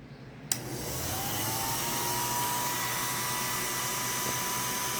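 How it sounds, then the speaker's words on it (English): A 1940s Revere Model 80 8mm film projector rewinding film in reverse, starting with a click and settling into a steady motorized whir with a faint rising whine, close and continuous, no talk. "now we're going to show you this camera rewinding in reverse"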